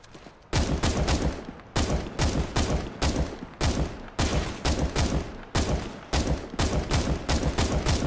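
Rapid bursts of gunfire from Counter-Strike: Global Offensive on a workshop map during a boss fight, loud and close, coming in repeated volleys with short gaps between them across the whole stretch.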